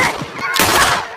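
A quick burst of gunshots, sharp cracks close together over about a second, loud and near.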